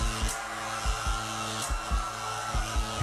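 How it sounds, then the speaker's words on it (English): A running hair dryer drones steadily in a dating sim video game, a constant blowing whir with a low rhythmic pulsing underneath, no voices. "I threw a turned-on hairdryer into the public bathtub."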